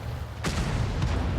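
One heavy, close artillery boom from a tank video game, followed by a second softer blast and a rolling rumble.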